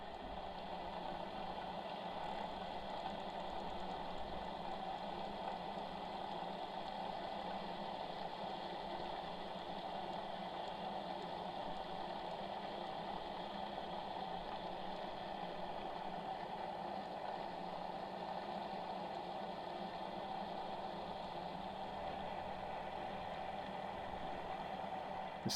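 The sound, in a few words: boat engine running at 2500 RPM during anchor test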